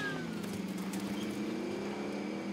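A car drives in the video game Warzone, its engine a steady, close droning hum that rises slightly in pitch as it accelerates, with no talk over it.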